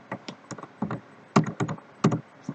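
Keys on a computer keyboard are tapped in short irregular bursts, close and crisp, with clusters of quick clicks separated by brief pauses while a Java program is typed.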